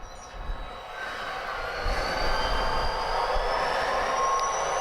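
A model diesel locomotive's sound decoder, a Tsunami2 run from a ProtoThrottle, winds straight up to notch 8, its engine drone building steadily louder and rising in pitch over a few seconds, with no talking.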